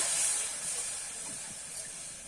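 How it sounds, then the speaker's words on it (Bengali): A loud, steady hiss of steam rises as water hits a hot wok, easing off slightly over a couple of seconds. "কড়াইতে কিন্তু আবার জল দিয়ে দেবো"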